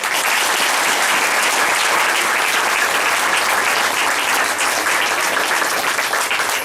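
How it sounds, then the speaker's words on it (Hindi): A congregation at a Sunday prayer service applauds steadily, a dense, loud wash of clapping that holds evenly from start to finish with no talk over it. "ताली बजाइए।"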